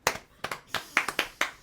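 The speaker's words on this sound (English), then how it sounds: "I'm gonna clap from number one from now on" Hand clapping from one person indoors, about seven sharp claps, some in quick pairs, spread unevenly over under two seconds, close and moderately loud with no talk over them.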